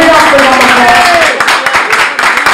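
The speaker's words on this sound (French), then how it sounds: "merci encore un tonnerre d'applaudissements pour cette brillante présentation" A press conference audience breaks into applause, dense clapping that thins out partway through into scattered claps, with a voice speaking over the start.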